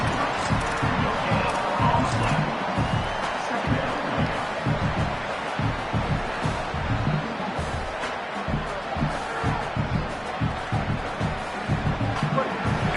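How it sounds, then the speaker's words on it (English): Stadium crowd roaring during a college football video game, NCAA 27, a dense sustained rumble of many voices swelling under the action, with steady background noise throughout. "this crowd coming to life here, trying to help the defense get a stop"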